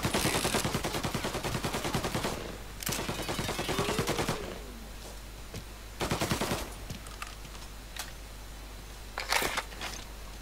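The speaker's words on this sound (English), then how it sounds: "Reports of gunshots." Bursts of rapid gunfire in Mafia: Definitive Edition rattle out in several volleys, loud and close, with short gaps and a few sharper single shots between them.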